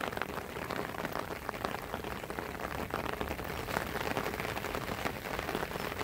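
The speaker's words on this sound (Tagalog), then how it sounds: "Ganyan katindi yung ulan dito." Heavy rain pouring down on flooded rice fields, a dense, continuous hiss of drops hitting water and plants, steady and even throughout with no voices.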